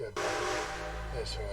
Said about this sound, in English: That's the train coming into the station.